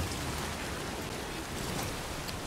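Steady rain pours down in the video game Death Stranding 2, a dense, even hiss with no pauses and no voices.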